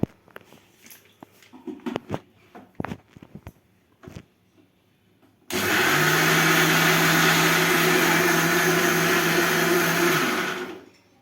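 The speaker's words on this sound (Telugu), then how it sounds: "కొంచెం వాటర్ వేసుకొని అయితే మిక్సీ పట్టుకుందాం" A mixer grinder starts up after a few scattered clatters, blending ridge gourd dosa batter loudly and steadily for about five seconds before stopping.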